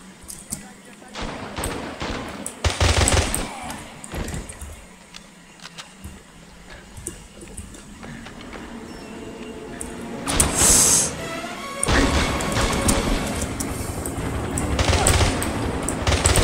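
Gunfire in the James Bond 007: Blood Stone video game, with bursts of shots, loud clusters around the start and a dense burst near the middle, over continuous game background noise.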